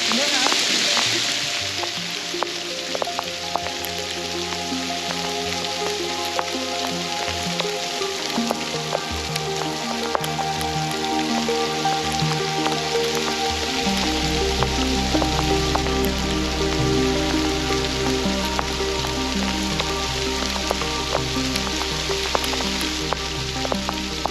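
Hail pours down in the Carpathian mountains as a continuous hissing patter full of small sharp hits, with low droning tones underneath that grow stronger partway through.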